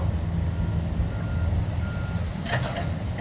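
At an earthmoving site where excavators and a tractor push soil to build a slope, a continuous engine rumble runs throughout while a short burst of reversing beeps sounds near the end.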